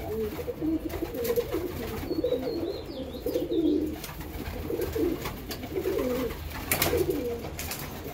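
Pigeons coo in repeated soft, throaty bursts close by, several birds calling over one another in an uneven rhythm with no voices.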